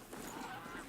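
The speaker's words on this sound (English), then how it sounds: "Goose." A goose in a video game lets out a single honk lasting under a second, faint and set against low background game noise.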